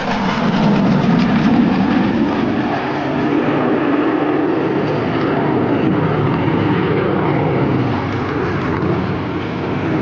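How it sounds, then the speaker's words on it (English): An F-16 fighter jet flying a minimum radius turn at nine g with afterburner roars loudly and continuously, a broad rumbling wash of jet noise that holds steady for the whole stretch without any voices. "its ability to outturn any adversary, FEMA will fly a minimum radius turn while being pressed with a speed at 9 times the force of gravity"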